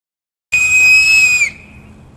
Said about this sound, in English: Do you get me whistling on film?